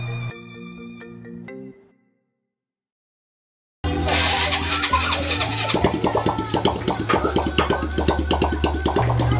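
After a short musical tone and a moment of silence, a Honda RS 125 motorcycle engine fresh from a top overhaul starts and runs with its exhaust pipe off, a loud, rapid, buzzing two-stroke beat close by.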